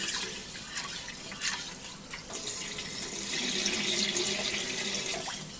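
Rinse water from Japanese rice pours and drains under a running kitchen tap into a sink, a steady close splashing wash with occasional drips and a small clunk at the end.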